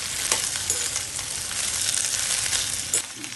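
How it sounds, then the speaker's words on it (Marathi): Okra (bhindi) fries in oil in a pan, giving a dense, even sizzle up close with a few sharp spatula clicks as it is stirred. "व्यवस्थित आपण फ्राय करून घ्यायचं म्हणजे तिखट नाही होत भेंडी"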